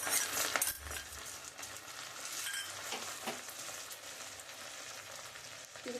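Ginger goes into a pan of hot oil where black pepper and cumin are already frying, giving a steady crackling sizzle broken by a few sharper pops, with no one talking.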